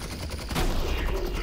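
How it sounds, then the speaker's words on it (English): A big gun fires in Half-Life: Alyx as a dense, loud, rapid burst of heavy shots over noisy ambience, close and continuous through the moment. "I hear a big gun."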